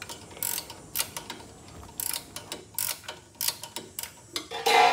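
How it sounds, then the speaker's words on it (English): A 10 mm wrench works a bolt on a snow thrower engine, giving a run of quick metallic ratcheting clicks in short bursts, close up and without speech. "I decided to use a 10 millimeter wrench instead of the socket"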